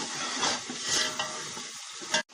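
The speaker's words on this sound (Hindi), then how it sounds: "और इसको थोड़ी देर चम्मच चलाएंगे।" Spices for chana pulao frying in hot oil and stirred with a spoon, a dense continuous sizzle with soft scraping strokes that cuts off abruptly near the end.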